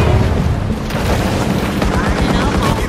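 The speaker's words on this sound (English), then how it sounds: "Just keep tossing bombs at me." Bombs explode underwater in the video game Maneater, producing loud, dense booming bursts and rumbles that pile up continuously, with a voice faintly under the din.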